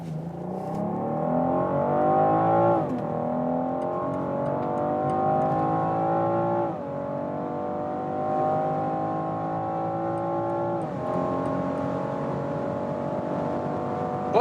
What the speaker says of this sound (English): And I really love that inline six-cylinder sound.